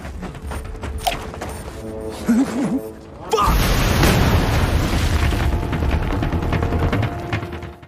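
A film bomb blast erupts after a few seconds of quieter tense sound, bursting into a loud, sustained roar of rumble and debris that stays heavy to the end.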